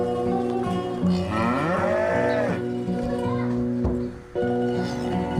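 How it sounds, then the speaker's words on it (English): A mother cow on a village farm in the southern Urals moos several times, long rising and falling calls that are loud and close, with children's voices and other farmyard sounds mixed in around them. "The mother cow returns from the forest of her own accord when she wants to be milked."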